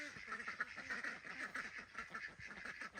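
Several ducks quack steadily in a farm orchard, a busy overlapping chorus of calls at moderate distance with no talk, as the flock heads out to work on pest control.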